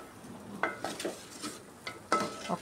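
A spoon stirs drumstick and tomato curry in hot oil in a pan, giving a few close scraping clinks over a faint steady sizzle.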